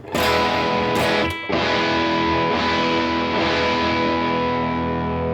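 Electric guitar power chord played through heavy distortion, struck loud and near, briefly choked and restruck about a second in, then left to sustain with a buzzing, saturated tone and no voice over it.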